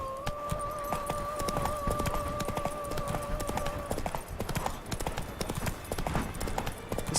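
Horse hooves clip-clop at a steady galloping rhythm in The Witcher 3, loud and continuous throughout, with two steady tones from the game's background sound playing over the first half.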